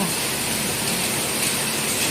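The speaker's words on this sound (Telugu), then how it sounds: "పెద్ద వర్షం పడుతుంది" Steady, dense broadband hiss of heavy rain with wind pouring continuously in Hyderabad, loud and even throughout with no pauses.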